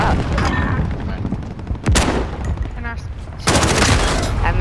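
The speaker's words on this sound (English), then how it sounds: "I missed those shots" Rapid gunfire bursts in a first-person online shooter match, with loud volleys near the start, a sharp crack near two seconds and another dense burst at the end, under a background of game noise and voices talking.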